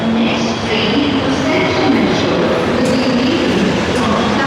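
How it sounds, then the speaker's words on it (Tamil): Metro train ride after leaving the airport in London, a loud continuous rumble of the carriage with rail hiss and faint squeals throughout, steady and close with no clear speech. "மெட்ரோவில் தான் நாங்கள் அப்படியே வெளியில் போகிறோம்"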